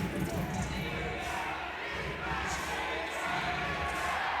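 Crowd noise from spectators at a 3x3 basketball quarter-final in Amsterdam, a steady roar of cheering that runs for several seconds under commentary.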